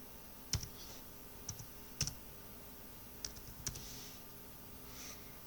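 A handful of soft, scattered keystrokes tap on a computer keyboard while editing in Google Docs, quiet and irregular against a faint electrical hum, with no talking.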